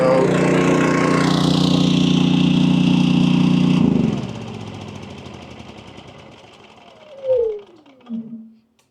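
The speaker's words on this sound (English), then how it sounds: "I'm gonna go ahead and shut the generator down" A Predator 11,500-watt generator running on propane drones loudly and steadily up close, then shuts off and the engine noise fades away, leaving a couple of short thuds and a quiet tail.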